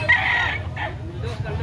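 A rooster crows on a chicken farm in Carbon, Cebu, a drawn-out call carrying over steady low background noise, close and fairly loud, followed by quieter farmyard sounds.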